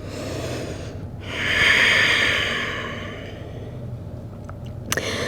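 One long, close exhale through the nose and mouth during a yoga forward fold, a breathy swell that rises and fades over a couple of seconds.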